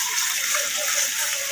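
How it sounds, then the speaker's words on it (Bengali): Water poured into a pan of frying spice paste of chili paste and ginger-garlic paste, a loud, close, steady gushing hiss that runs without a break for the whole moment. "মশলাটা লেগে না যায় তার জন্য হালকা একটু জল দিয়ে দিলাম।"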